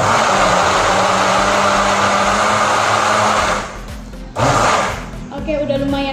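A blender runs loud and steady, whirring through a banana and strawberry smoothie, then briefly cuts out and restarts near the end.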